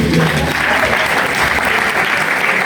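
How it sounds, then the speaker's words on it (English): Loud, sustained applause fills a crowded hall at the Black Excellence Award ceremony in Milton Keynes, a dense steady clapping from a large audience for nearly three seconds. "Another round of applause, please."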